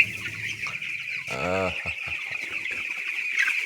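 Many chickens cluck inside a poultry farm house on a cold morning with the gas heater switched off. A busy background of clucking runs throughout, and one loud, drawn-out squawk near the middle stands out close by.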